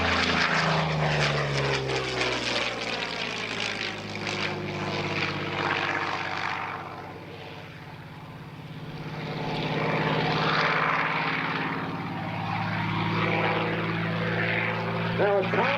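A P-40N Warhawk propeller warplane rolling through a barrel roll at an airshow, its loud piston engine roar rising and falling in pitch as it sweeps past, with an announcer talking over it.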